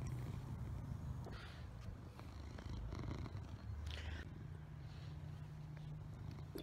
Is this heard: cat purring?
yes